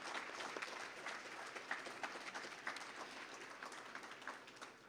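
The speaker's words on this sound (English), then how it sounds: "just give all students just one more round of applause" Steady applause from a crowd at a school award ceremony, fairly distant and even, continuing throughout without talk.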